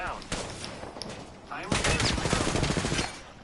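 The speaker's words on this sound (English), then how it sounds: "They are shooting." Video game gunfire rattling in dense automatic bursts and scattered single shots, loud and steady throughout, with a player's voice talking over it.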